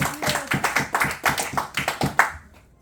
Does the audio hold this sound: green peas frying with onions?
no